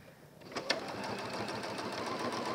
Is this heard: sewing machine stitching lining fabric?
yes